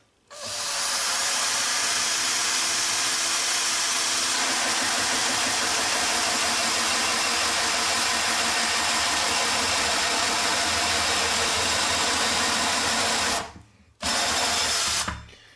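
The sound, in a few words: drill with hole saw cutting worktop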